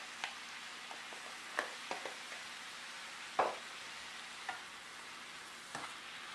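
Spinach cooks in a pan for a spinach soup with a quiet, steady sizzle, broken by several sharp scraping and knocking stirs of a utensil against the pan, close by and without speech.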